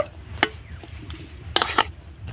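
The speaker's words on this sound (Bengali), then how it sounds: "নারকেল আর গুড়টা নাড়াচাড়া করে আমি পুর তৈরি করে নেব" A coconut and jaggery filling for pitha stirred in a pan: scattered sharp clinks and scrapes of a utensil against the metal, with a louder cluster near the end over quiet kitchen background.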